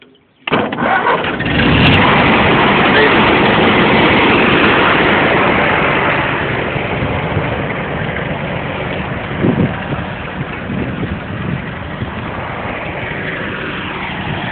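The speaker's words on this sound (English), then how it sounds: "Redneck starting a tractor." A 1947 tractor that sat in a field for six years cranks and fires into a loud, steady running engine, settling into a rough idle with a few bumps, no talk.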